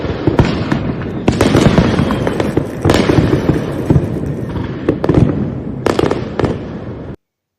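Diwali firecrackers and fireworks burst in quick succession, loud sharp cracks and pops layered over a continuous crackling roar, some bangs close and others farther off, with no talk.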